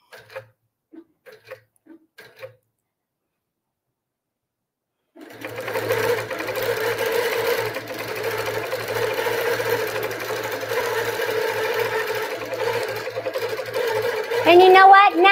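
After a few seconds of near silence broken by faint taps, an automated quilting sewing machine starts and stitches continuously with a steady, rapid mechanical whir and tick until the end.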